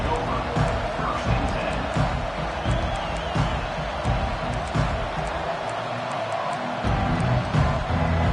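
Stadium crowd noise in the NCAA 25 college football video game, a steady loud roar of cheering fans that holds through the whole stretch, with a commentator's voice talking over it.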